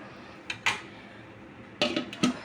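A pot lid clatters onto a dish of marinated barbecue meat in a home kitchen, two pairs of short metallic clanks separated by a quiet pause.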